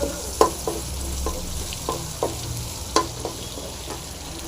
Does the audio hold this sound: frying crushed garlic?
yes